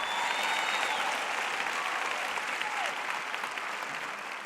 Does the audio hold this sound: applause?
yes